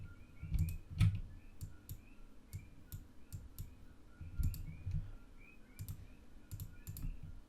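Soft computer mouse clicks while editing a photo in editing software, a quiet series of light taps at irregular intervals, some in quick pairs, with no talking.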